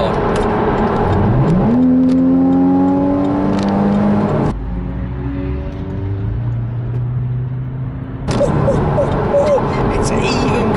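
A Porsche Cayman in sport mode accelerates hard from inside the cabin, its engine note climbing steadily through the gears with a brief dip at a shift before rising again, loud and continuous.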